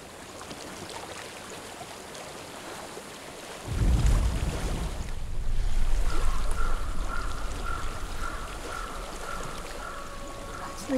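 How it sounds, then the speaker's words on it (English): Flowing water in the video game Hellblade: Senua's Sacrifice swells from a quiet, airy background into a louder, continuous rushing wash. A faint tonal hum sits beneath it in the later part. "I hear water. Go to it."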